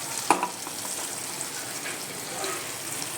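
Mustard paste ground from white and red mustard seeds, black cumin and green chilli goes into a hot pan and sizzles in a steady, dense hiss, with a brief clatter near the start.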